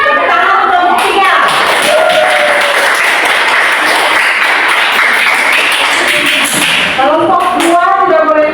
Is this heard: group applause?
yes